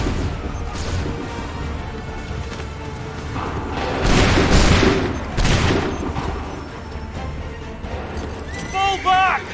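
Musket volleys in the video game Assassin's Creed III crack out in loud bursts, swelling into a heavy fusillade midway with horse hooves and battle noise around, while voices shout commands throughout.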